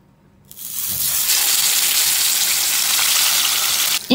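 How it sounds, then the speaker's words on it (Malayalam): Marinated pomfret laid into hot coconut oil sets off a sudden loud, steady sizzle that starts after a short quiet moment and keeps hissing evenly and close up, with no voices. "ചൂടായ എണ്ണയിലോട്ട് നമുക്ക് മാരിനേറ്റ് ചെയ്ത് വെച്ചിട്ടുള്ള 1 മീൻ വയ്ക്കാം."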